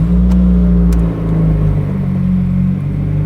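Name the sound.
car engine starting with new Tomei Expreme Ti exhaust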